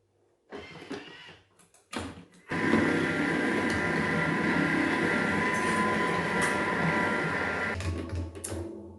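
A kitchen food processor blends fruit for sorbet at speed 5, starting in short stuttering bursts before settling into a loud, steady whirring drone that runs several seconds and then tapers off; no speech.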